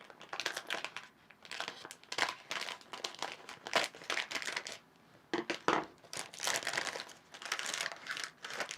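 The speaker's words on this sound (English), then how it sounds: "I'm going to cut the bag open." A plastic bag from a box of mini Japanese donut candy being cut and torn open, with repeated bursts of crisp crinkling and rustling plastic, close and fairly loud, separated by short pauses and no voices.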